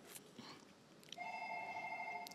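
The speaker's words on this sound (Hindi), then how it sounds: "फ़ोन आ गया" A telephone starts ringing in a comedy sketch, a steady electronic ring tone holding on after a couple of faint knocks and rustles, fairly quiet and with no talk over it.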